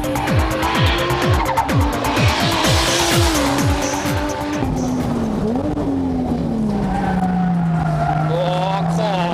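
Car tires on Nexen N3000 rubber squeal loudly during a handling test, with rapid skidding chirps and sweeping engine tones giving way to a sustained howling squeal close by.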